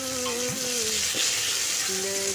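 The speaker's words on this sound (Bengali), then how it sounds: "প্রথমে তেলে টমেটোটা দিয়ে আমি একটু টমেটোটাকে নরম করে নেব" Chopped tomatoes hit hot mustard oil tempered with cumin and a dried chilli, setting off a loud, dense, continuous sizzle with faint tonal pan sounds over it.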